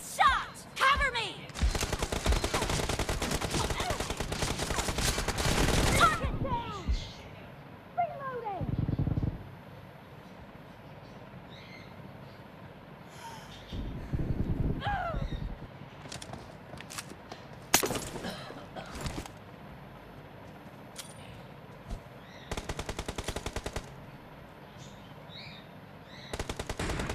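PUBG team deathmatch gunfire, with loud bursts of rapid automatic fire and scattered single shots coming in bursts separated by quieter gaps, plus occasional voices calling out.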